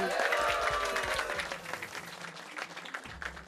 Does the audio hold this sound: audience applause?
yes